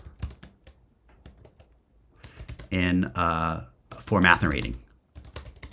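Quick clicking keystrokes on a computer keyboard, scattered light taps before and after a stretch where a person talks, close and fairly quiet.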